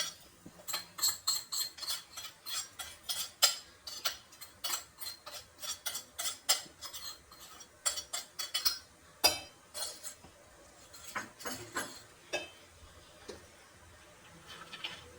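A spoon clinks and taps steadily against a metal vessel while fried cashews and other ingredients are stirred into idli batter, a quick irregular run of close, bright scraping knocks with no talk.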